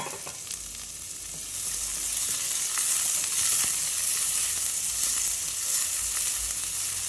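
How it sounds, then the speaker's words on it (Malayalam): Chopped onion sizzles in a pan for an ivy gourd curry, a dense continuous hiss that swells slightly partway through, with faint scraping and stirring ticks underneath and no voices. "ഒരു ചെറിയ സവാള അരിഞ്ഞത് ഇടാം."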